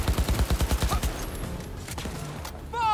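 Rapid close-range automatic gunfire from Cyberpunk 2077 rattles in a quick burst of about a dozen shots, then scattered impacts and game effects follow while a player shouts over the action.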